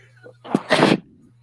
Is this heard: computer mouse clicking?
no